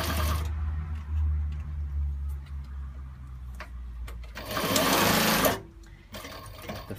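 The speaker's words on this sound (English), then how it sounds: "Now I'm going to demonstrate the how fast the machine is now going to go." An industrial sewing machine driven by a Jack energy-efficient servo motor runs at high speed with a steady close whirring drone, surging louder near the end before stopping.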